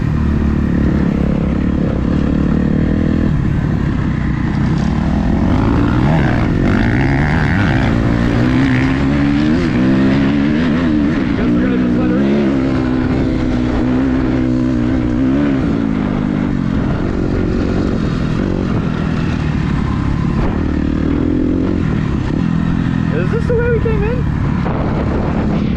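A dirt bike engine heard while riding off-road, a loud continuous drone with rising and falling revs and strong wind rumble throughout, with some talking mixed in.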